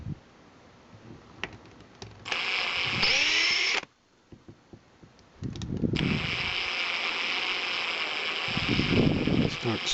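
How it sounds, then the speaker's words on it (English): A small power drill with a fine bit bores a hole in a 1/64-scale Hot Wheels emergency truck, whining in two close bursts of several seconds each, separated by quiet handling clicks. "What I like to do is use a smaller drill bit"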